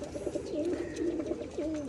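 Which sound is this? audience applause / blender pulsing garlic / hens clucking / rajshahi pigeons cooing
rajshahi pigeons cooing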